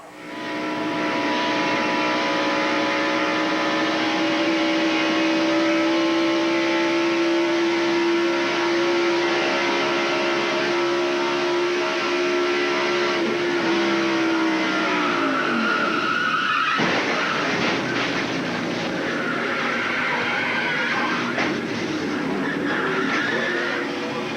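Loud, continuous roar of a stock car engine heard from inside during a 1994 race at Charlotte Motor Speedway, its pitch rising and falling as it shifts, with a sudden drop and rough rattling midway.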